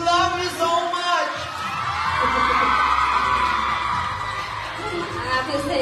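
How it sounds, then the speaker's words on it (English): Fans scream and cheer at a concert fan meeting in Manila, Philippines, a dense continuous roar of crowd noise that holds loud and steady from start to finish. "Your fans right here in the Philippines, they are screaming and they love you so much."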